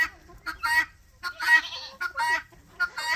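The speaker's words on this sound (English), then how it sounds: "That really loud, annoying sound, those are the guineas." Guinea fowl call loudly and repeatedly, harsh rhythmic squawking bursts close by with short pauses between.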